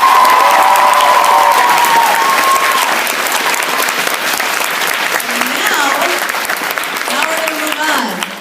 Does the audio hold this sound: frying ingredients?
no